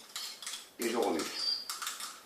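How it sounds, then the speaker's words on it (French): A spoon stirs pigeon feed mixed with hot water in a dish, giving two short bursts of clinking and scraping against the dish with brief pauses between them. "Et je remue."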